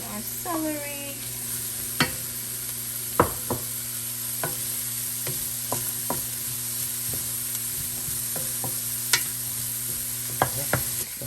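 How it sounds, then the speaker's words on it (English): Celery dropped into garlic already sizzling in a hot pan, a steady close frying hiss with sharp scattered clicks and pops of stirring throughout, a short squeak near the start. "And now we are going to add in our celery."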